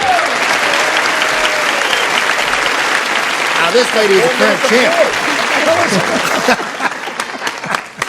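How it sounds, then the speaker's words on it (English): Studio audience at a 1978 television game show applauds loudly and steadily while a host talks over the clapping, which thins out toward the end. "That's why we were applauding"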